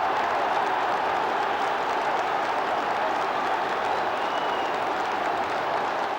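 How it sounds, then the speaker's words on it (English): A football stadium crowd roars and cheers after a goal in a 2001-2002 Stoke City match, a loud continuous wall of noise with applause mixed in and no pauses. "but it's probably the loudest cheer."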